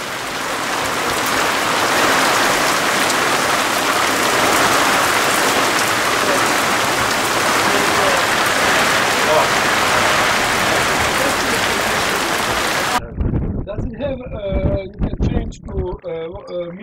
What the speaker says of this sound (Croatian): Vjetar puše. So, like, kiša pada